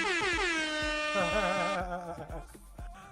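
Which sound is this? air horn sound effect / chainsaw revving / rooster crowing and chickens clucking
air horn sound effect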